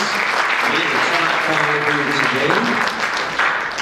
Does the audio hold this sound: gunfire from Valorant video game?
no